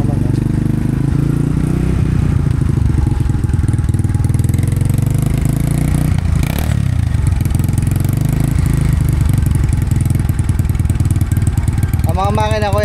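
A motorcycle tricycle with a stock engine, bought for farm service, idles in a steady loud low rumble throughout, heard close up while people talk over it.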